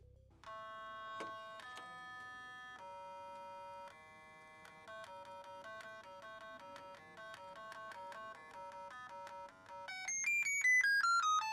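A simple homemade synthesizer built on an M5Stack with a PAHub unit plays sequences of pure electronic beeping tones, stepping through pitches in a steady pattern that speeds up and climbs higher at the end, faint and alone.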